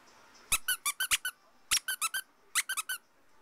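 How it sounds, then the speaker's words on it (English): A squeaker inside a penguin plush toy is squeezed in three quick bursts of high, bright squeaks, four to five rapid squeaks per burst, close and loud, with no talking. "And he's got a squeaker in him as well."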